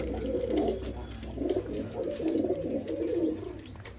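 Madras pigeons coo nearby in repeated low, rolling phrases that rise and fall in a steady rhythm over a faint background hum.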